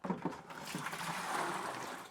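Water pours steadily into a bucket on a bathroom job, mixing setting compound for a linear shower drain, with a continuous broadband rush close by and a few brief knocks at the start.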